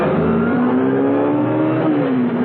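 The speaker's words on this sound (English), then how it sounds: "Conrad screamed his car round in a sharp curve." In a radio drama sound effect, a car screeches loudly round a sharp curve with a sustained tyre squeal over a revving engine, heard close and alone.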